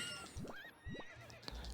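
A horse in the video game The Legend of Zelda: Twilight Princess gives two quick, rising neighs close together. A soft thump follows near the end, with no talking.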